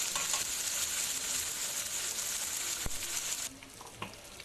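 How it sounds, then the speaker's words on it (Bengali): Onion paste poured into hot oil with bay leaf and dried chillies for a chicken kosha curry, hissing in a loud steady sizzle that drops away sharply near the end, leaving faint crackles. "এর মধ্যে এবার আমি পেঁয়াজ বাটাটা ঢেলে দেব।"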